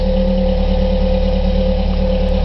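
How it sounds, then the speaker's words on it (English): A Ford Focus 1.8 Ghia engine runs steadily with a deep, droning, howling exhaust note and a sustained tonal hum, close and loud, without much change in pitch. "It's got a nice noise to it. Nice howling noise."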